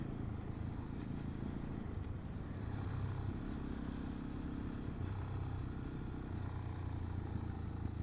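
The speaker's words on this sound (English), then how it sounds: "Oh, I got a little bit of popping on overrun." A Fantic Caballero Scrambler 500 motorcycle rolls along on overrun, its engine a steady low rumble with faint crackles under wind buffeting, heard from the rider's position with no talk.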